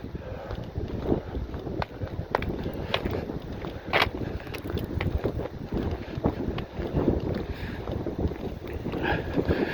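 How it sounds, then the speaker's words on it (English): Strong wind buffets the microphone in rumbling, uneven gusts, with a few sharper thumps, and no voices. "It's windy as F out here."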